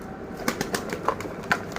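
A bird cooing softly in short repeated calls, fairly close, with faint rustling between the coos.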